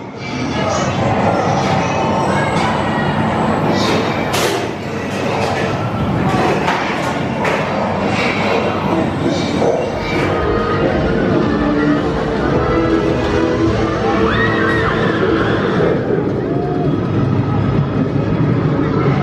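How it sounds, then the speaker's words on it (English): The Saw the Ride roller coaster train is dispatched at Thorpe Park amid steady crowd noise and mechanical rumbling, with thumps and clanks from the station area and people talking throughout. "getting the train sent out nice and quickly"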